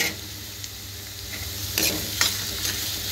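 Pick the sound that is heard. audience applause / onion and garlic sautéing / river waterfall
onion and garlic sautéing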